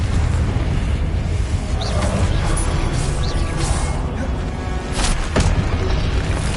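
A Confringo blasting-spell explosion in the video game Hogwarts Legacy booms amid a loud, dense battle mix of whooshes and crashes, with a sharper impact near the end.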